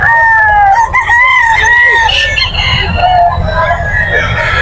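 Several roosters at a crowded chicken market in Bocaue, Bulacan crow loudly and near, one long crow after another with clucking between. Market chatter runs underneath.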